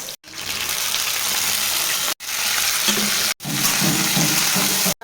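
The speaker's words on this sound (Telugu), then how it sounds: "కడాయిలో 3 స్పూన్ల ఆయిల్ వేసిన, ఇప్పుడు జీలకర్ర వేసిన, ఉల్లిగడ్డ వేసినాక బ్రోకోలీ వేసుకోవాలి" Broccoli frying with onion and cumin in oil in a kadai, giving a steady loud sizzle broken by a few brief gaps and some stirring scrapes, with no talk.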